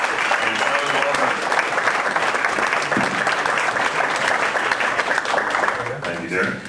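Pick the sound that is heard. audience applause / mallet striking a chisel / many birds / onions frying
audience applause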